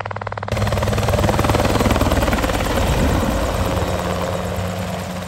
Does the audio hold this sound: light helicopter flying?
yes